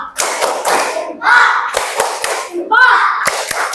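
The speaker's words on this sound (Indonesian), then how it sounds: "Tepuk jempol" A classroom of students performs a tepuk jempol thumb-clap chant, rhythmic bursts of clapping alternating with sung chant voices, close and fairly loud.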